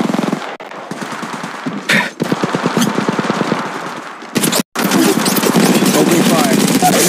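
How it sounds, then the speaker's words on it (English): Rapid automatic gunfire in the Apex Legends battle royale game, loud, dense bursts of shots with a brief pause partway through, mixed with game voice lines. "Opening fire."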